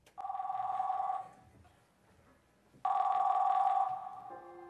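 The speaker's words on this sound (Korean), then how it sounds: "이제 마지막 전화 받아보겠습니다." A telephone rings twice during a phone-in call, each ring a loud trilling burst lasting about a second, with a quiet gap between them.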